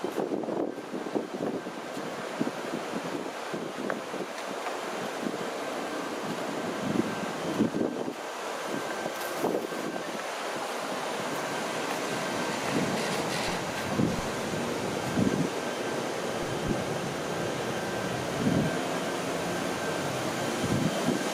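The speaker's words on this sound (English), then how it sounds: "Quite a breeze blowing here" A breeze blows outdoors as a steady, full rushing noise that swells gently in gusts for about twenty seconds, with faint distant background activity and no talking.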